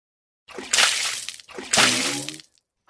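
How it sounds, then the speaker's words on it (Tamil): Water is poured over someone in a cartoon bathing scene, heard as two close, loud splashing gushes, each lasting about a second, with a short pause between them. "இரு, தண்ணி ஊத்தி விடுறேன்."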